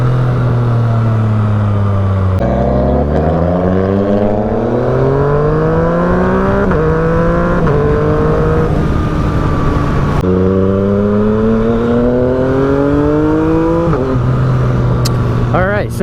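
A Yamaha FZ-09 motorcycle fitted with an aftermarket exhaust and a quick shifter is loud and close throughout, its engine note climbing repeatedly through several revs and gear changes before briefly dropping away.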